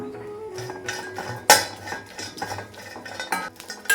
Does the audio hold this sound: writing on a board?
no